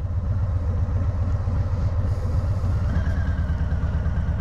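A 2020 Harley-Davidson Low Rider S rumbles steadily while being ridden, its low throbbing engine note loud and continuous throughout with no voices.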